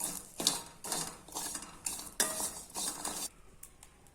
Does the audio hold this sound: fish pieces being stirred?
yes